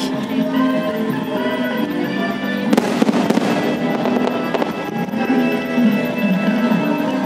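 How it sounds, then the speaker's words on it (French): Fireworks explode in loud, continuous bursts with crackling at a festival finale over a lake in Thailand, with a denser barrage of bangs in the middle. "la clôture du festival avec les beaux feux d'artifice finaux qui s'élèvent"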